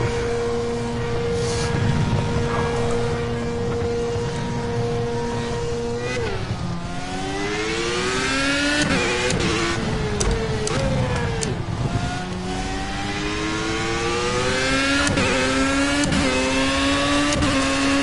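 A Formula A race car engine in Project CARS on a cruising out lap: a continuous buzzing engine whine that rises and falls through gear changes, with sharp shifts and revving swells.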